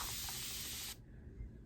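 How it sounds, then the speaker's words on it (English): A handheld spray water bottle lets out one loud, close burst of fine, even mist that stops abruptly about halfway through, leaving quiet room tone. "and it sprays ginormous, fine, even spray"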